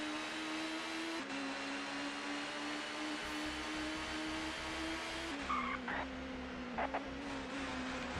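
Touring car engine in the ToCA Touring Car Championship game at Donington Park, a loud steady drone that drops in pitch under late braking into a corner, with tire skids near the end and no talk.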